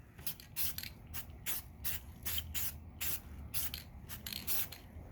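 Spray paint applied in a heavier coat onto a 1/10 scale RC Jeep Wrangler crawler body, heard as repeated short hissing bursts in an uneven rhythm, close and moderately loud with no talking.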